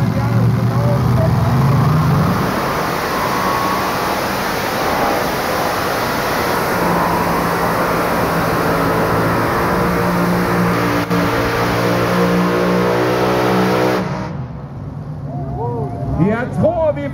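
A heavy modified pulling tractor roars up the track at a pull-off in Brande, a loud, sustained engine drone beneath excited commentary that drops away abruptly near the end.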